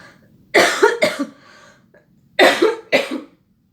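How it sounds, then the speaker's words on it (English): Two bursts of harsh, chesty coughing, each a pair of coughs close together, loud and near with a short pause between. "I'm still coughing very badly"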